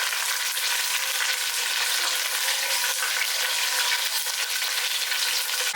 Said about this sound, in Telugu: ఆయిల్ కొంచెం హీట్ అయిన తర్వాత మనం ఫ్రెష్గా తీసుకున్న కరివేపాకు ఉంది కదా, అది చక్కగా ఈ ఆయిల్లో ఫ్రై చేసుకోవాలి.